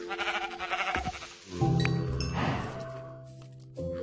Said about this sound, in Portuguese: Aqui é a ovelha.